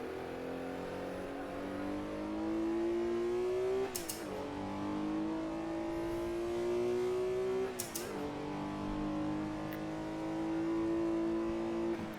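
Race car engine in Assetto Corsa, a WSC Legends car sliding at Riverside, revs steadily upward, breaks briefly at two gear changes and keeps climbing, loud and close.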